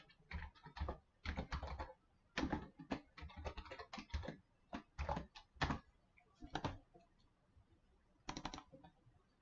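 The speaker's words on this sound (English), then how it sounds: "Now let's go back up to the data set and type this formula in." Close, quiet typing of a spreadsheet formula on a computer keyboard: bursts of rapid key clicks separated by short pauses, with no talking.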